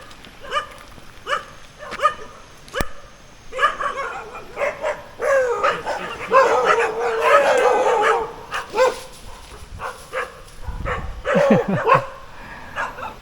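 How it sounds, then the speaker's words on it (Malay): Several dogs bark and yip repeatedly in bursts along a trail through a durian orchard near a waterfall in Malaysia, fairly close and loud, with a person talking briefly in between. "ada anjing ah"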